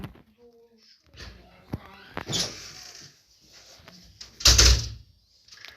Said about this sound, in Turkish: Kapanan kapıyı